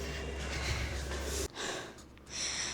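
Close, heavy panting from someone who has just climbed a long flight of stairs at a Boracay island resort, with rough, breathy gasps and a brief pause midway.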